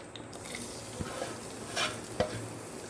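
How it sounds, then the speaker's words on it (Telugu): Onions, cumin seeds and cinnamon sizzle softly in a little hot oil in a kadai, with a few stirring scrapes and light clinks of a spoon against the pan. "సో ఇవి వేసుకొని కొంచెం ఫ్రై చేసుకోవాలి."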